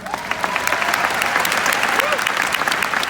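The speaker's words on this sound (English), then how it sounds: "let's clap it up for them" Live business-event audience applauding steadily, a dense sustained patter of many hands clapping with faint crowd noise mixed in, no break for the full few seconds.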